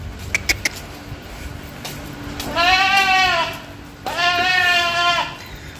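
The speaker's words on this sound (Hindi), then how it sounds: "वो अजीब ही बकरा है ये वाला," Goats bleat on a goat farm in Lahore, two long wavering calls following a few short clicks and knocks, loud and close with no talking.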